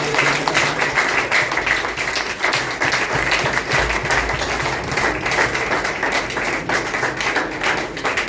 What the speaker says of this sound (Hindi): आइए हम परमेश्वर का धन्यवाद तालियों के साथ करें।